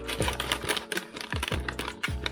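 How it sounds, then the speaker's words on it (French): Rustling and crinkling of packaging as a rustic wooden-handled knife is unwrapped from its box, with a sheath alongside; a string of close, sharp crackles and taps in quick irregular bursts. "On va le déballer et on va voir ce que ça donne."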